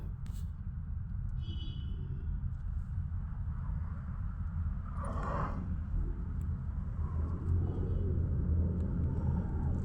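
A low, continuous road-traffic rumble fills the air, steady and dense, with a passing swell midway and faint higher noises above.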